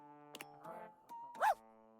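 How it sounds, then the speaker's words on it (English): A small soapy-looking dog in the Date Everything video game gives a few short yaps and barks, the loudest near the end, over a quiet sustained musical tone. "A strange creature that looks and sounds like a soapy little dog jumps up at your legs, yapping and barking."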